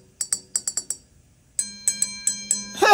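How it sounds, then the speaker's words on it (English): Glass rod tapping a pewter cup chilled in liquid nitrogen, about five dull clinks followed by a pause, then five clear ringing bell-like strikes that sustain a tone between hits. "After being chilled, the cold cup sounds like a bell."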